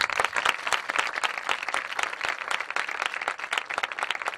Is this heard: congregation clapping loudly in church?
yes